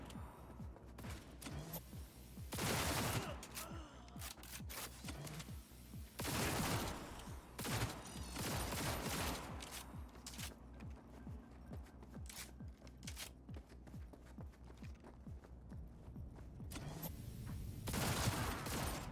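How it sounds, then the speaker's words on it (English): Charged handgun in Cyberpunk 2077 firing short bursts, sharp clustered shots repeating through the scene with mechanical clicks between volleys, fairly loud and without talk. "this handgun does this little burst when you charge it up"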